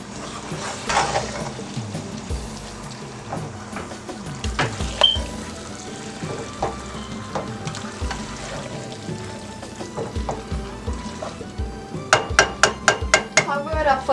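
A spoon stirs Haitian-style spaghetti and hotdogs in a metal pot, with repeated scraping and knocking clinks against the sides, a soft simmering sizzle underneath, and a quick burst of sharp taps near the end.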